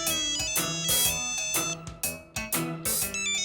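A phone rings with a bright, repeating electronic ringtone melody in short rhythmic bursts, loud and close, with no voices over it.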